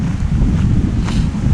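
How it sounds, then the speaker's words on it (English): Heavy wind buffets a handheld microphone outdoors at the Fairy Pools on the Isle of Skye, a loud, continuous low rumbling roar with no talking. "think you might hear a little bit of wind on this"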